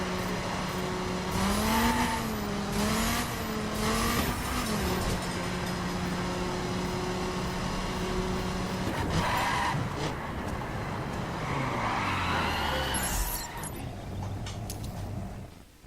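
Race cars in The Crew video game, engines droning steadily and revving up and down through gear changes, close and loud, with tire noise, fading slightly toward the end.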